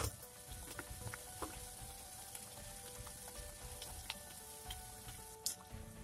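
Khasta wheat-flour kachori fries in hot oil, a steady quiet sizzle with soft crackles and occasional pops, close and unbroken with no talking.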